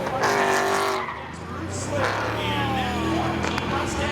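Ford drag race cars, including a 1998 Ford, launch at Seekonk Speedway, with engines roaring loud and close and tires squealing, while an announcer talks over a distant crowd.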